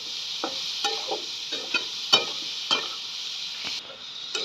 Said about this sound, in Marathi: छानपैकी अशी परतून घेतली आणि एकदम साधी सिंपल आम्ही मटकीची भाजी केलेली आहे